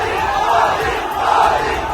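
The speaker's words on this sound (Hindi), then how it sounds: "लोगों ने मोदी मोदी और जय श्री राम के नारे लगाकर उनका जोरदार स्वागत किया" A large crowd in a loud, rhythmic mass chant of "Modi Modi" and "Jai Shri Ram" greeting the Prime Minister near a metro station, voices swelling and falling in waves.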